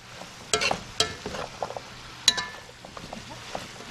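Cabbage and chicken with seasoning fry in a pan while being stirred, giving a low sizzle broken by several sharp scraping and clinking stirs, close and moderately loud.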